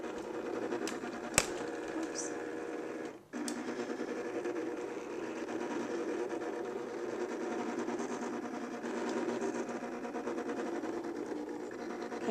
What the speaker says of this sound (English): let's watch it cut that fondant or the cake